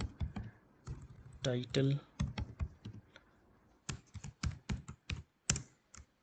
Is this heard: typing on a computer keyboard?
yes